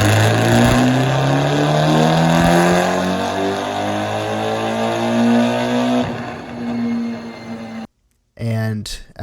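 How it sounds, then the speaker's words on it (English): A car fitted with a test pipe and a dyno tune revs hard, its loud raspy exhaust drone climbing steadily in pitch, then easing off and cutting out before a short final blip. "I actually have quite a few exhaust clips of this car"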